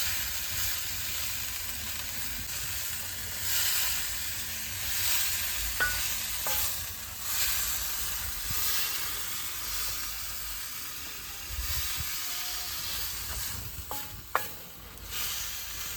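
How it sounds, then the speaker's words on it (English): Dried mopane worms cook in a pan with a steady sizzle and frying hiss, broken by occasional stirring scrapes and small clicks, close and continuous with no voices. "this is how I cook my Mopane worms"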